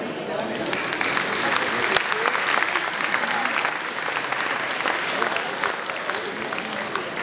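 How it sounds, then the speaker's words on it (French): A crowd at a local election campaign speech in Levallois gives sustained applause, a loud, dense, continuous wash of clapping with crowd noise mixed in. "on peut l'applaudir"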